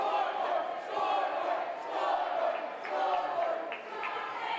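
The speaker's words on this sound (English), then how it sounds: "the mock cheer here from the Marion Center fans" Marion Center fans at a Heritage Conference girls' high school basketball game against Penns Manor let out a mock cheer, a sustained gym crowd roar with mixed voices rising and falling over several seconds.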